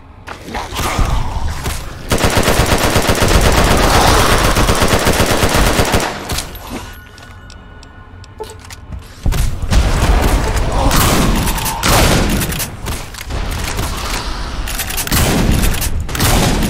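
Repeated 12 gauge shotgun blasts in Fallout New Vegas, loud booming bursts in dense volleys with a quieter lull in the middle before heavy firing resumes.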